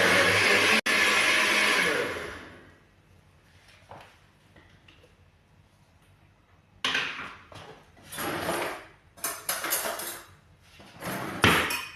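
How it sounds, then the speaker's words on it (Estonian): A blender whirs loudly while blending oat flakes with water, then drops away, and several more bursts of grinding follow in short pulses, with quiet knocks and handling sounds between them. "Ja hakkame blenderima."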